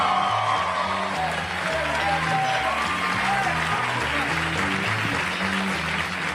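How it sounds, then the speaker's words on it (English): A comedy club crowd claps and cheers loudly to welcome a stand-up comedian to the stage, with dense applause and whoops that hold steady, backed by music. "rousing round of applause for Mr. Pat McGann"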